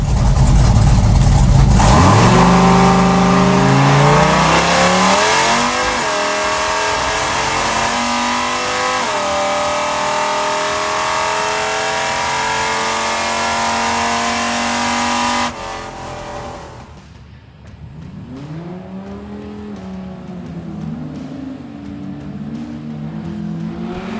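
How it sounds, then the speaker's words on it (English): A drag race car makes a full-throttle pass at Hot Rod Drag Week, its engine launching with a roar and rising through several gear changes before fading. A second, more distant car then revs and shifts. "So here are my pass and Nate's pass"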